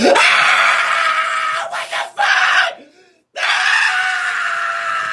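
A man screams loudly and at length in a replayed soundbite, one sustained raw howl that breaks off briefly, drops to silence, then resumes just as loud.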